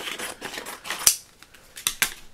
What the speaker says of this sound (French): Ici, on va faire la découpe comme ceci.